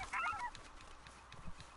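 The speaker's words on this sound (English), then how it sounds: "Turkeys. Yeah, I forgot turkeys were here." Turkeys gobble and cluck in a Red Dead Redemption 2 game scene, a short burst of nasal calls up front followed by softer scattered clucks over steady outdoor ambience.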